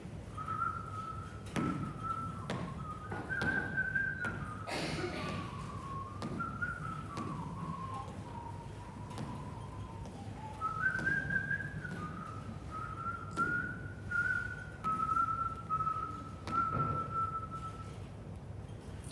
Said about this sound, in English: tried his level best to whistle